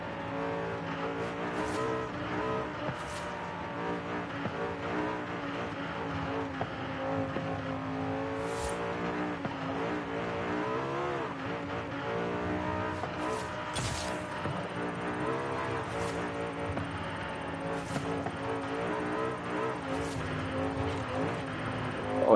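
A car engine drives steadily in Forza Horizon 5, a sustained loud drone with shifting harmonic tones as revs rise and fall, broken by a few short sharp bursts, with no talk.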